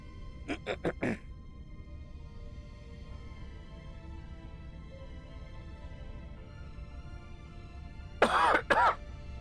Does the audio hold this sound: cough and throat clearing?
yes